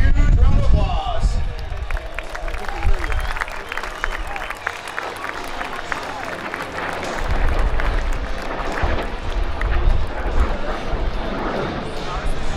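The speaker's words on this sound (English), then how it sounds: "Everybody give them a huge round of applause." An airshow crowd applauds and cheers for an F-86 Sabre, a loud steady wash of clapping spread across the whole stretch, with a voice over a loudspeaker speaking partway through.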